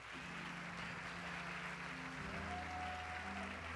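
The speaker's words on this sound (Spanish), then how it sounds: "Dele un aplauso al Señor." A church congregation claps for the Lord during a Spanish-language service, soft and fairly distant, with sustained keyboard-like musical tones ringing underneath throughout.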